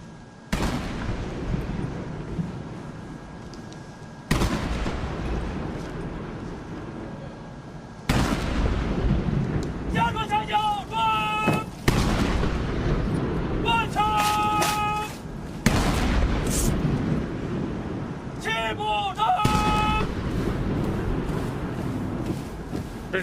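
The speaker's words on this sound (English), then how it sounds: "An 80-gun salute is fired marking 80 years since the victory of the War of Resistance." Booming artillery rounds of an 80-gun salute at a Victory Day military parade, fired one after another at a steady pace of roughly one every four seconds, each a loud broadband blast with voices audible between the shots.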